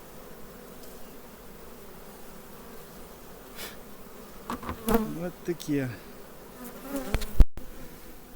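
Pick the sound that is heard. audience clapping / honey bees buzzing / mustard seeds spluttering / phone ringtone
honey bees buzzing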